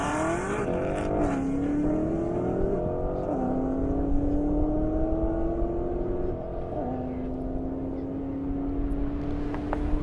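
A Corvette and a Mustang drag race side by side down a half-mile airport strip, and their engines roar continuously. The loud, sustained drone climbs in pitch through several gear shifts, with a nearby crowd murmuring underneath.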